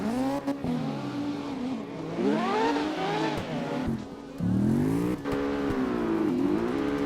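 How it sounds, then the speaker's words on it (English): The Ronin car's engine in CarX Drift Racing revs hard and repeatedly, its pitch sweeping up and down through gear changes, with brief tire squeal and a drop in revs midway, all loud and close. "there's a Ronin, that's what it sounds like"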